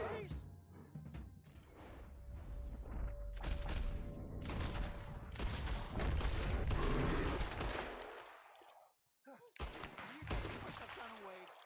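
Rapid gunfire from the Red Dead Redemption II video game, with dense bursts of shots and heavy booms running for several seconds, a short gap, then more firing, mixed with game voices and effects.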